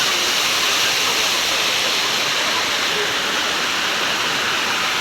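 Waterfall in the Kadamgiri hills, a loud, dense, continuous rush of falling water that holds steady throughout with no pauses.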